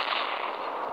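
A video game gunshot sounds as a sharp burst with a brief, steady rattling tail, loud and close, with no voices.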